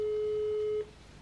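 A telephone call tone on an unanswered line: one steady, clear tone sounds for under a second, then cuts off into quiet room hiss.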